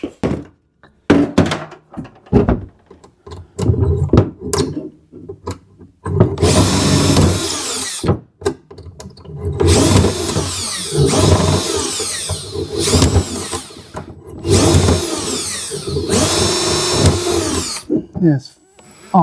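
A power drill bores out spot welds on the steel body of a Suzuki Samurai in bursts of several seconds each. Sharp knocks and thunks of metal come between the bursts, and someone talks in places.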